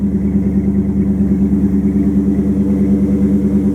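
A Chrysler 360 V8 fitted with an Edelbrock AFB carburetor, once running rich on one side, idles loudly and steadily up close with an even, throbbing rumble throughout.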